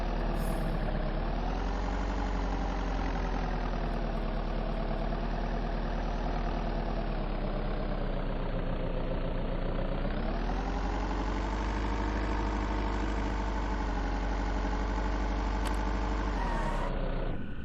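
A motorcycle engine idles steadily in the zombie survival game Vein, a loud, even mechanical drone with a slight rise in pitch partway through, then cutting off abruptly near the end.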